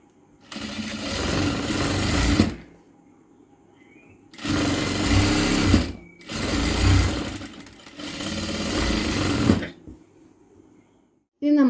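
Three long runs of a sewing machine stitching the hem of a child's frock, a steady close motor whir broken by short pauses and quiet gaps between runs.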